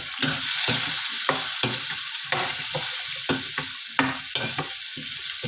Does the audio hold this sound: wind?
no